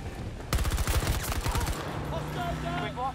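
Rapid bursts of automatic gunfire in the video game Battlefield 2042 crackle loudly for about a second, then a voice speaks over lingering game sounds.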